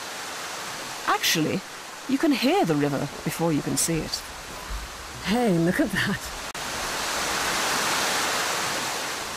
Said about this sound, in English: Actually, you can hear the river before you can see it.